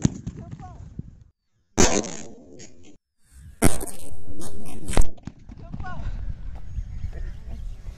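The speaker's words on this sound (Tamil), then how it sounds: "இப்போ நம்ம இதல நெருப்பு வச்சு எப்படி வெடிக்குதுன்னு பார்க்கலாம்" A homemade cricket ball firecracker goes off with a few sharp, loud bangs and a rushing burst, between stretches of background noise.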